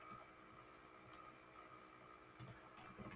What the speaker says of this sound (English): You click on OK.